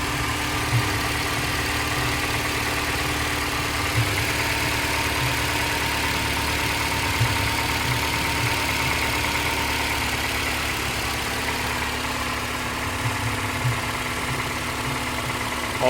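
Engine of a 2010 Ford Escape idling after an oil change, a steady even hum with a faint rhythmic ticking, heard close and alone throughout.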